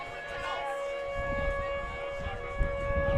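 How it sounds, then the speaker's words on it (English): A civil defense siren test sounds during a Class AAA state softball game, a steady sustained wailing tone carrying from a distance across the field over crowd and ambient noise. "It is just a test of the sirens, so no warning here for severe weather."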